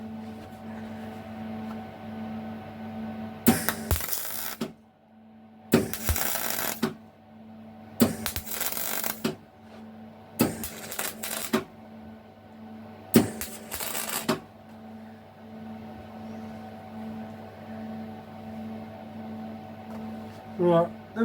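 Bursts of MIG-type welding on a classic car door, five crackling, buzzing runs of a few seconds each separated by pauses, over a steady low hum, with someone speaking briefly.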